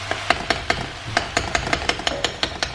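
A spoon stirs yogurt through lamb chops in a pan, giving a steady run of quick, evenly spaced scraping taps close by over a soft background hum, with no talking.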